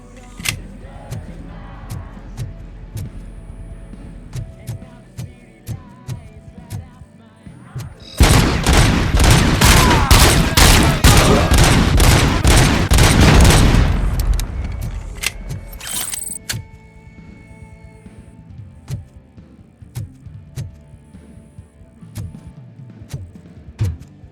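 A sustained, dense volley of rapid gunfire in the Robocop Rogue City video game, loud and continuous for several seconds amid scattered shots and game sounds.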